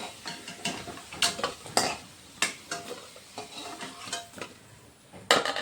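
Fried potatoes are lifted out of hot oil in a home kitchen, with a run of sharp, irregular scraping and clinking clicks from the utensil against the pan over a soft sizzle, and no talking.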